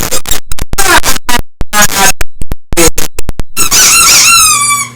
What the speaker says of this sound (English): so a squeaky toy is what?